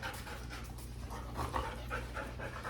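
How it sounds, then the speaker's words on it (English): A female dog pants heavily on a hot day after playing outdoors, giving a steady run of quick, breathy huffs close by with a faint background hum and no talking. "And she's panting pretty heavy."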